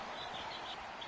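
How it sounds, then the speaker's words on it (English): Birds chirp outdoors, coming in through an open window as a few faint, distant calls over a steady background hiss. "It's refreshing. I hear the birds chirping."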